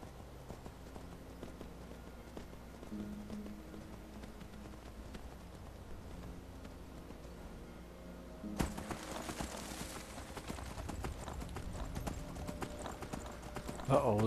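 Horse hooves clip-clopping in a rhythmic run in the video game Skyrim, steady and moderately loud, with game ambience growing busier partway through and someone talking over it.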